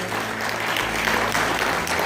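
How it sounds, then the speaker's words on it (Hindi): Loud, enthusiastic applause from a gathered audience, continuous and close, with a low hum underneath. "ऐसे सभी हमारे बीच जो कर्नल आए उनको जोरदार तालियों से उनका स्वागत करेंगे"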